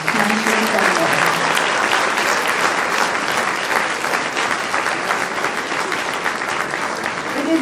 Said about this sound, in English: I would like a really loud round of applause